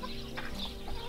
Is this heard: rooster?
yes